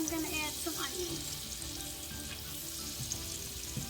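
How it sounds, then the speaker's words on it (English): Onions frying in butter for potato soup give a continuous close sizzle with light crackling, and faint stirring clinks and background hum come through beneath it. "And then I'm going to add some onions."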